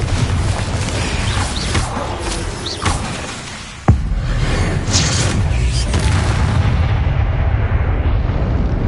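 Spell explosions from Hogwarts Legacy burst and boom loudly in quick succession over a dense rumbling game soundscape, with one sharp impact standing out midway.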